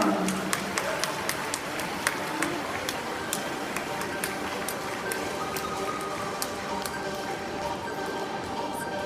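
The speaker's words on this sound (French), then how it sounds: "vous pouvez les applaudir" Crowd at an equestrian event applauds riders on mares: scattered, fairly distant clapping spread over a sustained background murmur, with occasional sharper claps and a voice over a loudspeaker.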